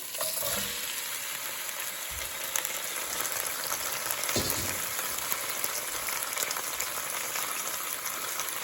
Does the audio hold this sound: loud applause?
no